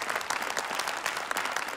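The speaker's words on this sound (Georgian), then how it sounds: "აპლოდისმენტებით გაცილებთ სცენიდან" A studio audience at a Georgian televised singing show applauds as a singer leaves the stage, dense and steady clapping at moderate volume that carries on throughout.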